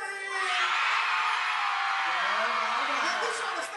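A crowd in a gym at the Demetrius Johnson Center in St. Louis screams and cheers in a sustained, loud roar that swells and fades slightly, with whoops over the top.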